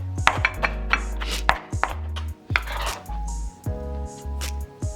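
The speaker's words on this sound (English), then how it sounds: "After chopping in your green onions, go ahead and chop your cilantro." A knife chopping fresh cilantro on a cutting board in a home kitchen, about a dozen sharp, close knocks in an uneven rhythm with brief pauses between bursts.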